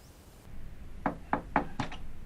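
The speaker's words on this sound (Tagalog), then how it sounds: "Kanina pa akong makatok ah." A fist raps on a door four times in a quick, slightly uneven rhythm. The knocks are close and fairly muted against a quiet room background.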